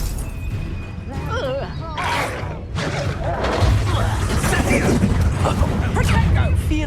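Spell casting in the Hogwarts Legacy video game, with Stupefy, Confringo and Incendio cast in combat: rapid whooshing magic blasts, impacts and crackling bursts, layered over continuous game music and a voice speaking.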